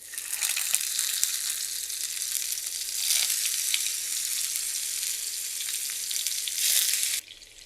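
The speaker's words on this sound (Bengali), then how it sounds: "অমলেটগুলো ভাজতে চলে আসলাম আমি। আর এখানে কিছুটা তেল দিয়েছি এটা ফ্রাই প্যানে।" An omelette fries in oil in a frying pan, with tomato rings laid in the pan. A continuous, close sizzle crackles throughout and swells briefly twice before cutting off, with no voices.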